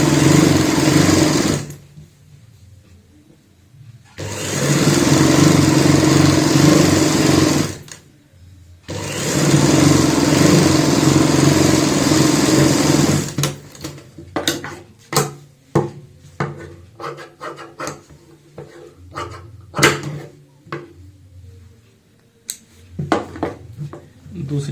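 A sewing machine stitches a baby frock in three long continuous runs that start and stop abruptly, followed by scattered clicks and handling noises of fabric work.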